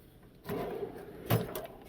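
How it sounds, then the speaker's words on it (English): A toolbox drawer slides open with a soft, quiet scrape, then a sharper clunk follows as it reaches its stop. "the first of the drawers I'm going to show you"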